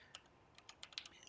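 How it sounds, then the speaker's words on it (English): Typing on a computer keyboard at a flight-sim desk: a quick, faint run of light key clicks, about ten taps in a second, alone and close. "I just want to finish what I was typing here"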